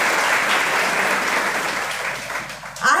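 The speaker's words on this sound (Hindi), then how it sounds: "उन सभी स्टूडेंट्स के लिए एक बार जोरदार तालियां।" Loud, dense applause for selected students at a free coaching classes inauguration in Guna, sustained steadily for about three seconds before tapering slightly at the end.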